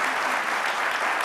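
Audience applause at a tribute ceremony, a dense, steady burst of clapping from a crowd, filling the short moment without any voices on top.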